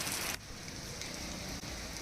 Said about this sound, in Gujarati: કાળા ડિબાંગ વાદળો છે જે ઘેરાઈને આવેલા છે ને વરસાદ રૂપે તૂટી રહ્યા છે